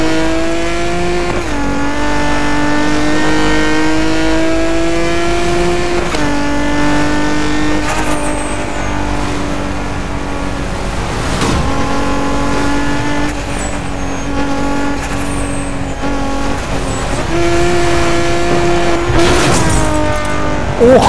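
A car engine in Need for Speed Most Wanted 2012 revs hard during a police chase, its loud, close tone climbing and dropping again and again through gear changes, with occasional bursts of noise.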